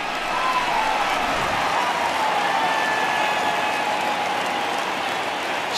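Home crowd in the MLB The Show 20 baseball video game, Yankees vs. Athletics, cheering and applauding in a steady, loud, continuous roar that holds for several seconds without a break.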